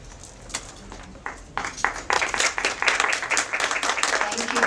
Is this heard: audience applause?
yes